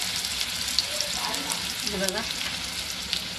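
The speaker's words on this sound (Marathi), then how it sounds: "तेलामध्ये कांदा टाकून घेतला आहे." Chopped onion dropped into hot oil sizzles in a steady, close crackling hiss, while someone speaks briefly over it.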